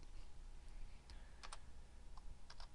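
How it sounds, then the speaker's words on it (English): Quiet keystrokes on a computer keyboard while entering an Excel lookup formula: a handful of soft, sparse clicks scattered over a low hum, with no speech. "If I can only type."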